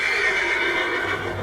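A horse in Red Dead Redemption 2 gives a loud, sustained whinny, continuous and close, with no talking.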